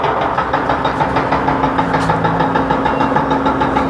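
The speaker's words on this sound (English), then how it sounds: "Sorry about the noise," Steady, loud mechanical rumble of construction machinery outside a newly built house, a droning engine with a faint knocking pulse running continuously without pause and no voices.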